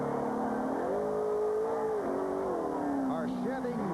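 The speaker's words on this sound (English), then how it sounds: "the accelerator is hung wide open, sitting back there against the wall." A race car at a 2004 Talladega event, its accelerator stuck wide open, holds a steady high engine drone that sways slightly in pitch, heard steadily under a commentator talking.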